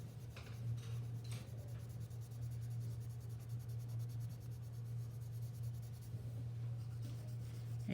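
Graphite pencil shades a cone and cylinder drawing on paper, making a soft continuous scratchy rubbing with short strokes, close and quiet over a low steady hum.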